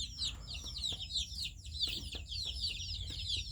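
A small backyard flock of about twenty-one chickens clucks and murmurs close by, with high chirping birds overlapping throughout and a steady low background hum.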